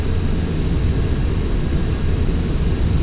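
Aircraft engine roaring steadily as the plane climbs after takeoff in Flight Simulator X, a loud, continuous, broadband rumble with no breaks and no talk.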